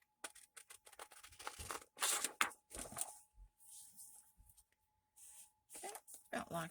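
Scissors snipping through the paper pages of a composition book, a series of short crisp cuts and rustles close by, with soft voice sounds in between.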